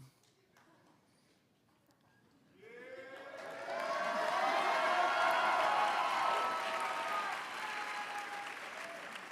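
Applause at a 2022 white coat ceremony swells from a quiet room into a sustained wave of clapping and cheering from a large crowd, holding steady and easing slightly toward the end.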